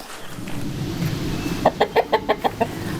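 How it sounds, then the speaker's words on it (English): Chickens clucking nearby over a low outdoor murmur, ending in a quick run of about seven evenly spaced clucks. "fed my chickens."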